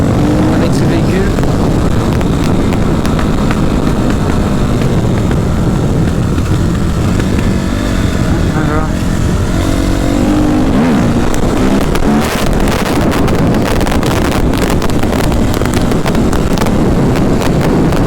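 A Suzuki RM-Z 250 motocross bike rides on a road on Réunion, its engine droning loudly and constantly under heavy wind buffeting, with a voice talking over it.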